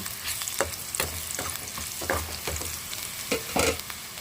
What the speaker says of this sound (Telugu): ఈ పోపు అయితే బ్రౌన్ కలర్లోకి అయితే వేగుతుంది